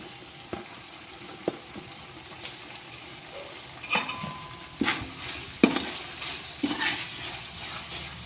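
Ginger, garlic and tomato fry in a pan for an egg-laying hen biryani, a soft steady sizzle broken by occasional clinks and scrapes of stirring, near and without talk.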